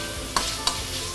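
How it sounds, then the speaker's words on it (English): Shredded cabbage and carrot stir-frying in hot oil in a wok, a steady sizzle broken by two sharp scrapes of the spatula tossing the vegetables. "Okay, you saute for it for a while."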